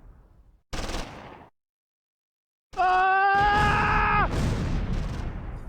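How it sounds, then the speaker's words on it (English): Machine gun fire in the World War II strategy game Close Combat 3 during a battle at the Kremlin: a short loud burst, a pause, then a longer sustained volley with a shouted voice over it. "Kleese's squad now moves into the Presidium under cover of machine gun fire."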